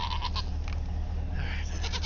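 Ranch goats bleating in a pen as they wait for sweet feed, a few short calls over steady low rumbling background noise.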